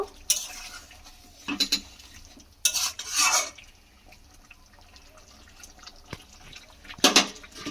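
Garam masala and chopped coriander being stirred into a soybean and egg curry, with a spoon scraping and clinking against the pot in scattered bursts and a brief wet splash, and no talking.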